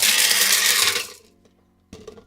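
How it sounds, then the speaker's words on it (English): An electric grinder grinding gingerbread spices, a loud harsh whirring burst for about a second that cuts off abruptly, then near silence before a short clatter. "I never actually used this as a spice grinder"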